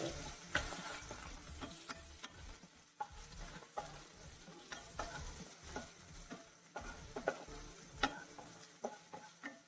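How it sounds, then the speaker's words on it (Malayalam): Ginger, green chili and curry leaves frying in hot oil in a pan for egg bhurji, a soft crackling sizzle punctuated by sharp spatters and stirring taps, quiet and close. "ഇഞ്ചി ഇട്ട് കൊടുക്കാം പച്ചമുളക് കൂടെ ഇട്ട് കൊടുക്കാം കുറച്ച് കറിവേപ്പില ചൂടാക്കിയിട്ട് സവാള"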